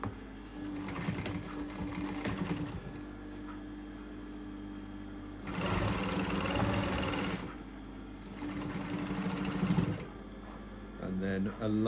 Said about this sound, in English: before I start sewing.